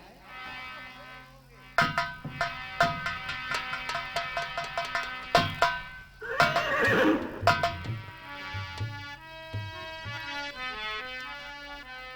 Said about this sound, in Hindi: श्यामकर्ण घोड़े को लेकर के आ गए।